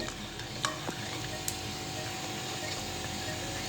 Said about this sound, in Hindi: इसको मुसलसल हमने इस तरह से हिलाते रहना है जब तक चीनी का अंदर शीरा ना बन जाए।